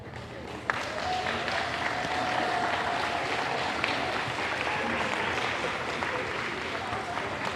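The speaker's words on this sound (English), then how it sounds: "Big round of applause for this dog," Audience applauding at an American Bully dog show ring, a steady dense wash of clapping lasting throughout, fairly distant and even, with faint voices mixed in.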